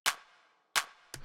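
An analog clap layer with slight EQ, made for a deep house beat: two crisp, bright claps with quick decays, then the start of a third, heard alone at an even pace.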